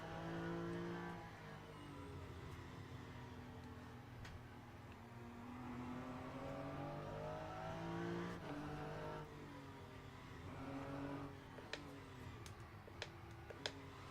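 A Ferrari race car engine during the 6 Hours of Qatar endurance race is heard faint and distant, with rising and falling engine whine shifting through gears and a few sharp ticks near the end.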